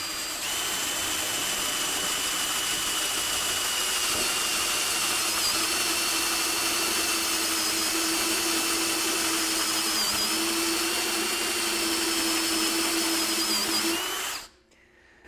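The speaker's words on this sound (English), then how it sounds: "I'm going to use the slower speed in my drill because this is a larger hole size." A power drill running at slower speed bores a 1/2 inch hole with a step drill bit, a steady close whine and grinding for about fourteen seconds before stopping abruptly.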